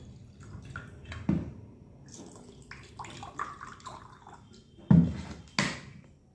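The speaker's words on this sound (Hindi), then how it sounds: "आपके इस और इस गिलास में मैं जो है आरओ का पानी डालता हूँ।" RO-filtered drinking water poured into a glass, with soft trickling and splashing punctuated by two louder gurgling pours, close and clear with no talking.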